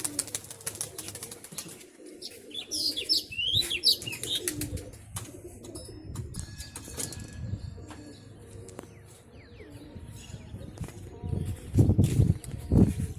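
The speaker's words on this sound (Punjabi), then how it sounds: "ਆ ਕਬੂਤਰ ਛੱਡਦੇ ਆ ਜੀ ਨਵਾਂ ਹੀ ਕੱਢਿਆ" Pigeons coo and chirp around a rooftop loft as a newly bred racing pigeon is released. Scattered soft coos and a burst of chirps come through faint rustling and brief wing noise.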